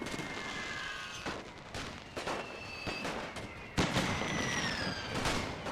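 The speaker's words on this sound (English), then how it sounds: "And they're getting hit by the artillery as well." Artillery fire in The Great War: Total War WW1 mod battle, a rapid string of sharp blasts and booms at irregular intervals over a continuous din of distant gunfire and whistling shells.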